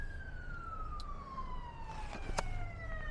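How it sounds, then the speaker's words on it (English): An ambulance siren wails with a steadily falling pitch, heard at a moderate distance from inside a parked car as it moves past, with faint background noise and a few brief knocks. "just the local ambulance saying hello"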